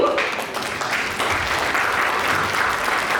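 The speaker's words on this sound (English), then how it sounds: "Give her a round of applause too." Pageant audience applause for a contestant, a full, steady roar of clapping from a sizable crowd in an auditorium, holding evenly for a few seconds with faint voices mixed in.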